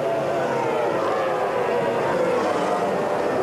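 A racing powerboat with a well-prepared Mercury 2.5 litre engine roars steadily and loudly throughout, a dense, continuous high-revving drone with no break.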